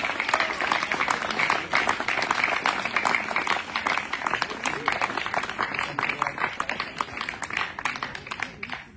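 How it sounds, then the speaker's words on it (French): Crowd applause honouring a world-record-setting athlete at an awards announcement, a sustained wash of individual claps with distinct sharp hand strikes running throughout and tapering slightly toward the end. "qu'on peut applaudir très fort"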